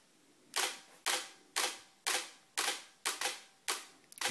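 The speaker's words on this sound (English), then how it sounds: "you can see it running through the shots there" Camera shutter on a time-lapse sky-dome rig firing a rapid series of about nine sharp clicks at roughly half-second intervals, close and crisp with no talking.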